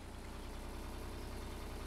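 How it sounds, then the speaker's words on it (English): A tractor engine idles steadily in Farming Simulator 19, a low, even rumble with a regular pulsing throb that stays constant and close throughout, with no talking. "so she's full up, and we're going to run this tractor over"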